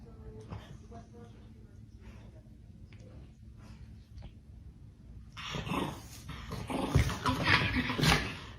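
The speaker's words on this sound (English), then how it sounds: "Guard Chihuahua on duty." A small Chihuahua whimpers and growls softly, then bursts into louder, sharp yips and snarls near the end, with people's voices mixed in the background.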